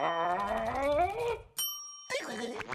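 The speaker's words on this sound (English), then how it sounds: "stop ringing this bell" A single bright bell ding rings out in a SpongeBob cartoon, sustaining briefly between stretches of animated character voices.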